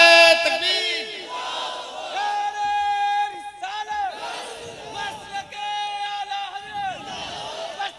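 A large crowd at a religious gathering roars in response to a Nara-e-Takbir call, loud massed voices chanting in surging waves with overlapping shouts and a reverberant, echoing quality.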